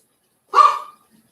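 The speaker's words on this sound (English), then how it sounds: "It's hard for me to talk when you got a barking dog in the background" A dog named Precious gives a single short bark, fairly loud and close, with a brief whimpering tail and quiet around it.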